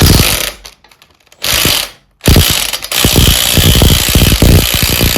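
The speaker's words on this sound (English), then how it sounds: "Now I will just put the impact on this to try and get this crankshaft nut off." Pneumatic impact wrench hammering loose the crankshaft nut on a Bolens Ride-a-matic engine, loud rattling bursts with a short pause then a longer sustained run of rapid impacts, close up.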